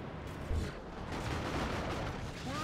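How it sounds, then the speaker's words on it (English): A Carnifex blows up in the Dawn of War 2: Retribution strategy game, a muffled thud inside a dense, constant wash of gunfire and battle noise, all at a low, distant level. "down goes the Carnifex. It will explode, but the explosion does nothing"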